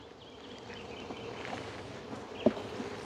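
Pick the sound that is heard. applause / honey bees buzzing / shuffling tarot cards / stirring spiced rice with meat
honey bees buzzing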